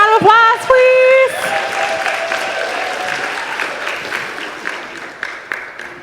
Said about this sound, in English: Everyone give her a round of applause, please